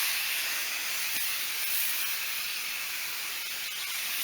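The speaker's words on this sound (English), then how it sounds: "soak down with this Instant Valet Foam Upholstery Cleaner" Instant Valet foam upholstery cleaner sprays steadily from a can onto car seat fabric in an Audi A4 interior, a continuous close, even hiss lasting several seconds with no break and no voices.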